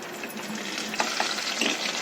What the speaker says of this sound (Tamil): தாளிக்கிறதுக்கு கடுகு, ஜீரகம், கடலைப்பருப்பு, உளுந்து, கருவேப்பிலை, இந்த 5 ஐட்டம்ஸ் இதில் போடணும்.